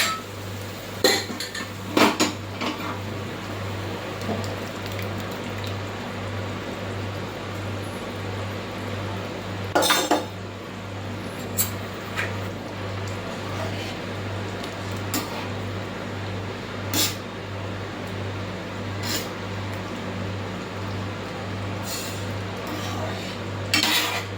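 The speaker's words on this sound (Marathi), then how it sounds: "तर चला यामध्ये आपण आता जी आपली पावभाजी शिजवलेली होती ती सर्व घालून घेऊया" Cooked pav bhaji mixture goes into a pan and is stirred, with scattered metallic clinks and scrapes of a spoon against the pan over a steady low hum.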